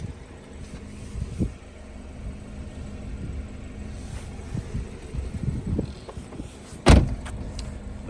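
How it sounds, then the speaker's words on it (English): A 2015 BMW 228i coupe's frameless power window whirs briefly with the door, under light wind noise, ending in a sharp door thud near the end. "When you close the door, the window goes up. When you open the door, it drops."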